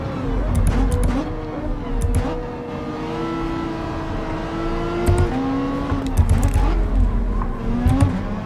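Toyota Supra race car in Gran Turismo 7 closing in and overtaking, its engine droning and shifting pitch steadily throughout, with brief sharp bursts, while a person talks over it.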